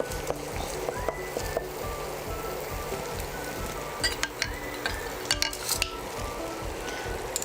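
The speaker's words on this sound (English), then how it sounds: "fry the onions only on medium heat, and always keep scraping the pan" Onions fry in a pan on medium heat for a restaurant-style black pepper chicken curry, with a steady close sizzle under repeated scraping and stirring strokes and a few light metallic clinks.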